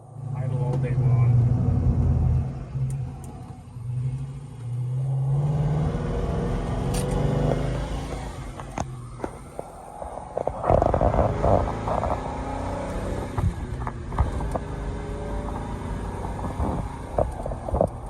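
A 1970 Pontiac GTO Ram Air IV V8 idles steadily with a low, lumpy rumble that holds throughout, while someone talks over it.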